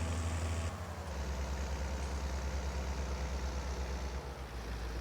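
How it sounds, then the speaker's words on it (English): A farm tractor's diesel engine idling in a steady low rumble, close and constant, with a slight dip and shift in tone partway through and again near the end. "I'm gonna leave this tractor here because it needs to go back in the shed over here."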